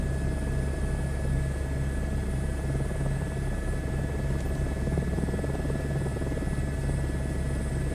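A simulated helicopter flies in Microsoft Flight Simulator 2024, with a constant loud rotor and turbine drone that holds a steady engine whine and low thrumming throughout.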